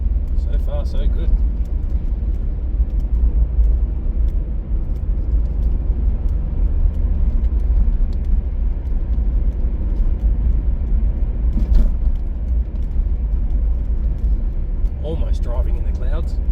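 A car cruises through the Adelaide Hills in stormy weather, heard from inside as a loud, steady low road rumble and engine drone throughout, with a few brief clicks and knocks and occasional speech.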